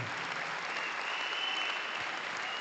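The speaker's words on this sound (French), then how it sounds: "Applaudissons pour le Seigneur." A church congregation claps steadily in praise to the Lord, dense sustained applause throughout, fairly loud and unbroken, with no clear speech over it.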